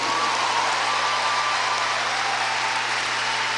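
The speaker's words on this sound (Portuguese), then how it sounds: "Não dá para aplaudir Jesus?" Congregation at a Sunday morning sermon during a church convention breaks into steady, dense applause that fills the whole stretch, loud and sustained with a faint tonal hum underneath.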